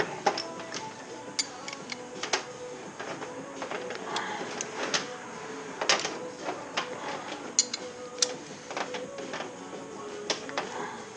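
A wrench works on a Kawasaki Z125 Pro motorcycle during a rebuild, giving faint, irregular metallic ticking and ratcheting clicks over a quiet background hiss.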